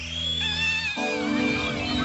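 A cartoon cat meows in drawn-out, wavering cries, loud and close, with a musical score playing underneath.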